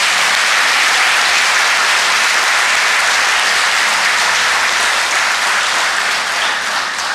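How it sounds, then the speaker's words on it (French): Dense, loud applause fills the National Assembly hall in Côte d'Ivoire in honour of Adama Bictogo, a steady wash of many hands clapping without pause. "Second bon applaudissement pour Adama Bictogo."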